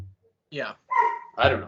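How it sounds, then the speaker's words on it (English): A dog barks a few times somewhere upstairs in the house, muffled and at moderate distance, with two or three short bursts spaced apart and a person speaking briefly between them. "Is that your dog? Yeah, that's my dog."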